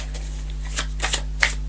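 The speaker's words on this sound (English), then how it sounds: "I'm going to just pull another card for the King of Coins before we..." Tarot cards being shuffled and drawn during a reading, soft riffling and a few sharp card flicks near the end over a steady low hum, close and fairly quiet.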